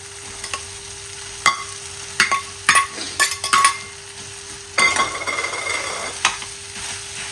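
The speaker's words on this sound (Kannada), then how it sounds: "ನಾನು ಇದಕ್ಕೆ ರೈಸನ್ನು ಹಾಕ್ತಾ ಇದ್ದೀನಿ." Rice being stirred into tomato masala in a pan with a spoon, giving a soft sizzle and repeated scraping, clinking stirs in irregular bursts, close and moderately loud with no talking.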